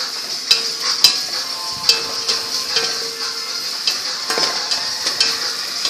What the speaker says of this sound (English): So we're gonna saute this until the onions and garlic get a little bit translucent.